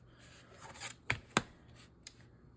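Scissors cut paper for a junk journal, with soft snipping and rubbing followed by two sharp close cuts and one lighter snip, alone with no talk.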